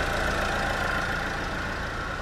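A Mercedes B 160 engine idles smoothly and quietly, a steady, even hum with a soft rhythmic pulse and no voices, recorded close to the car.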